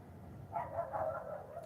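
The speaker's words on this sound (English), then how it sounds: "Dogs." Dogs barking faintly in the distance, a short burst of two or three muffled barks over a quiet background.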